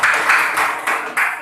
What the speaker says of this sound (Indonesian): Nah, tepuk tangan dong.